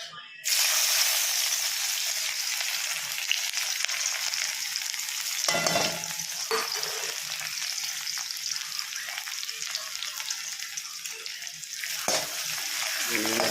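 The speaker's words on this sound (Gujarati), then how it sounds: "એમાં નાખી દઈશું આપણે ડુંગળી" Onion dropped into hot oil in a pan, a loud continuous close sizzle and crackle holding steady throughout, with brief dips where the pan is stirred.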